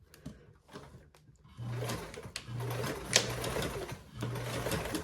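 A sewing machine runs top stitching along a bag seam at an eighth-inch allowance, with short bursts of stitching broken by brief pauses and small handling clicks, fairly quiet and close.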